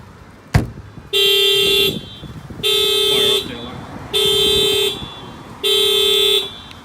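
A sharp click, then the factory alarm of a 2017 Honda CR-V blares in four evenly spaced bursts with short pauses between them, close by.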